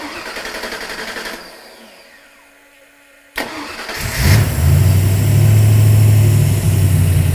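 A car engine in a garage whirs as it cranks and then fires up, roaring loudly before settling into a steady, strong idle close by.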